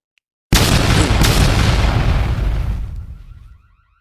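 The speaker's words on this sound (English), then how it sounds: "Now I'm gonna explode it." A big explosion in a Roblox game blasts open a bank's security system, a sudden loud boom that roars for about two seconds and fades into a rumbling tail, followed by a faint electronic alarm-like warble.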